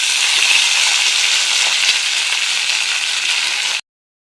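Broad beans tipped into hot oil already crackling with mustard seeds and curry leaves, giving a loud, steady sizzle that runs alone and close for several seconds before cutting off abruptly.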